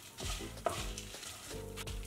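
Spices dry-roasting in a pan for beetroot rasam, stirred with a few scraping sweeps and a soft sizzle, quiet and close without speech.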